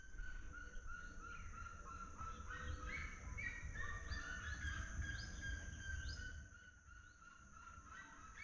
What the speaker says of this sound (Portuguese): escutando os passarinhos cantar